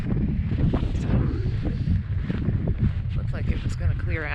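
Strong wind on a mountain trail buffets the microphone with a constant roaring rumble and gusty bursts, loud and close, while a person talks over it.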